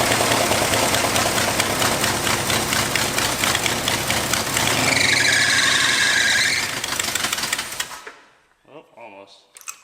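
A rough old Dodge Ramcharger truck engine runs steadily and loud for several seconds, with a high squeal rising partway through, then cuts out to near silence with faint noises.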